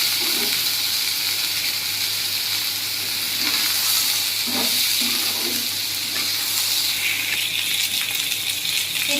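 Small pieces of pork dropped into a hot pan for a dry fry sizzle loudly and steadily at close range, a broad hiss with a few soft knocks from stirring and no talking.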